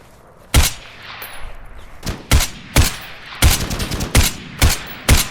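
Gunfire in the VR shooter Geronimo VR: about eight loud, sharp rifle shots fired singly and in quick pairs at irregular intervals, each with a short ringing tail.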